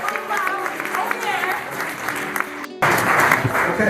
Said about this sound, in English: Can we get a clap for those that weren't?